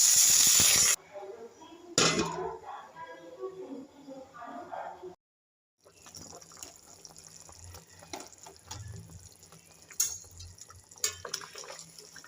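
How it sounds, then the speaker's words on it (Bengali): Water poured into a pot of vegetarian curry of taro, potato and eggplant to make the gravy, a liquid splash and trickle with drips amid kitchen clatter, followed by a short silence, then faint dripping and background noise. "আমি এবার ঝোলের জন্য জল দিয়ে দিচ্ছি।"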